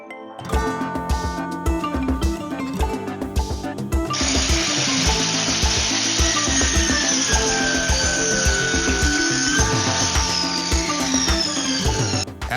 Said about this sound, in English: I'll place the squeegee on the miter saw and make the cut